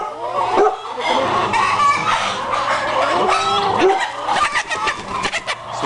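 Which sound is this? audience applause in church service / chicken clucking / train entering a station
chicken clucking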